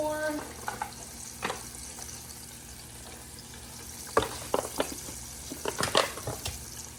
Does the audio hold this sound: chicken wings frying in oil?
yes